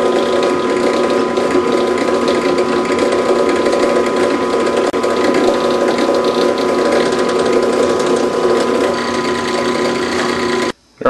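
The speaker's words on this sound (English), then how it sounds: "We want a real good press fit, so let's go ahead and drill it." Power drill boring a hole with a number 50 bit for a press fit while building a butane-powered micro potato gun; steady, loud mechanical whirring runs continuously before stopping abruptly at the end.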